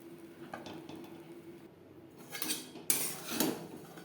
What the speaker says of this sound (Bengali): সুজির সাথে বেশ ভালো করে মিক্সড করে দেব। এইভাবে ঝরঝরে হওয়া পর্যন্ত নাড়াচাড়া করে নেব।